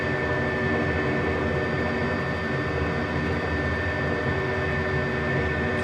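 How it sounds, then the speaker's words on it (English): A Bell 206B-3 helicopter in a flight simulator game, heard as a steady, loud, continuous engine and rotor drone with constant whining tones and no talk over it. "this is a flight simulator, right? That's what it's designed to do, it simulate helicopter flight."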